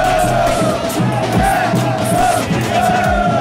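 Football fans cheer and chant loudly with the winning team after a seven-a-side final, a dense, close crowd roar with sustained sung and shouted voices throughout.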